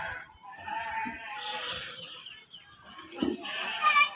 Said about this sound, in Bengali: এটা বন্য ছাগল।